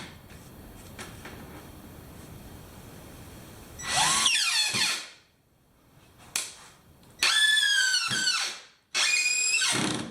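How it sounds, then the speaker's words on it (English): Power drill driving long screws through lumber while building sawhorses, three loud whining bursts with rising pitch around the middle and end, separated by pauses over a faint background. "here's the fun noise that the screws made while going in"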